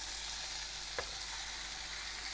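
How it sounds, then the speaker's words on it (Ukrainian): Meat sizzles and fries in a hot pan, a dense steady crackle with one brief sharp tap near the middle, close and alone without any talking. "відправляю наше м'ясо в сковорідку"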